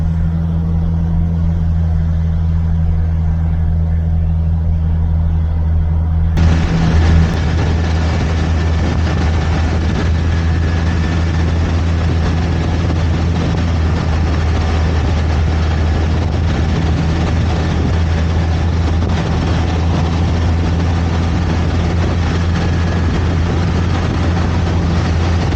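Car exhaust note echoing inside the A86 tunnel, a continuous loud low droning engine and road roar that steps up in brightness partway through and holds steady, no one talking.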